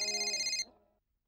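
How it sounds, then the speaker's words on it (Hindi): A telephone rings with a bright, electronic trill lasting about half a second, then cuts off and a short fading tail dies away into silence. "जेठा भाई का फोन।"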